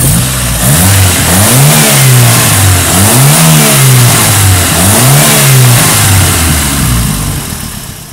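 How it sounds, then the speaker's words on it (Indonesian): Fully restored, overhauled 1300cc D13B engine in a Honda Grand Civic, heard up close and loud, its revs climbing and falling in several repeated swells, steady engine drone throughout with no talk. "Kita pengen denger dong suara mesin dan spek mesinnya kayak apa sih."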